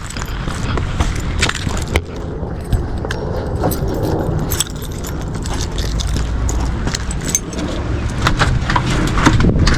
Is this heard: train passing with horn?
no